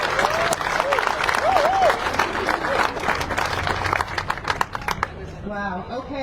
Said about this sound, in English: So I would really like a very strong round of applause also for Denise Salisbury